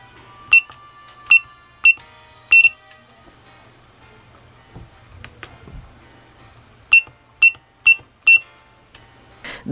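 Short electronic beeps from an Arduino keypad lock's buzzer in two bursts of four, fairly evenly spaced, with a quiet stretch of faint handling noise between them.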